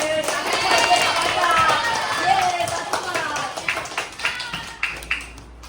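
Children chatter and call out, then scattered claps build into a short burst of applause.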